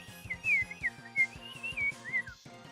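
Someone imitates a slide whistle with a wavering, sliding whistled pitch that rises and dips several times over a steady rhythmic backing, then breaks off near the end.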